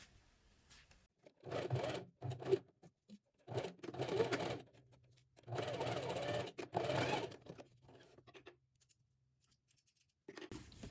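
A sewing machine stitches the seams of a women's dress shirt, running in several short whirring bursts separated by quiet pauses, fairly close and moderately loud.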